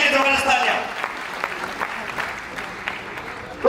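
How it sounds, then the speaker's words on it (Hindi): Audience clapping during a motivational speech, a burst that is loudest at the start and then settles into lighter, thinning applause with some crowd noise. "जबरदस्त तालियां"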